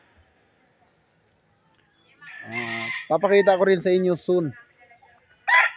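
Chickens cluck and a rooster crows nearby in a loud burst, while someone speaks briefly over the birds.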